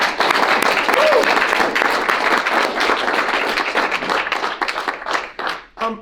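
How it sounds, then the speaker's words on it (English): A team gives itself a round of applause at a gathering, loud dense clapping that starts at full strength, then thins and tapers into scattered individual claps with some voices mixed in near the end. "one more time, give yourselves a huge round of applause."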